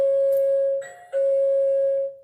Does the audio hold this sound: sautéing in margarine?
no